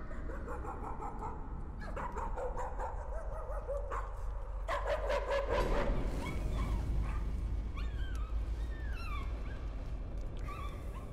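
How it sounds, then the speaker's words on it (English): Dog barking and whimpering inside the horror game Layers of Fear, a string of yips and whines that starts faint and grows more insistent midway, set over a constant low ambient drone. "I hear a dog."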